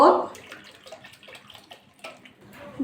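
Water pours into a kadai on a gas stove for boiling elephant foot yam, a brief splashing rush at the start, then quieter trickling and kitchen clatter.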